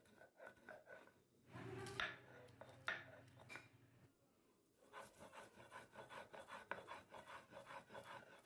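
Fried cumin and five green chilies are ground on a stone slab with a grinding stone, giving rough scraping rubs in bursts, a strong stroke early, a pause, then a steadier run of rasping strokes close by.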